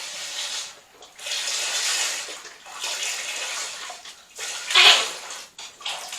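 Water poured into a crockpot for lentil and split pea soup, a few rushing pours of several seconds each with brief pauses between, close and fairly loud, with no talking.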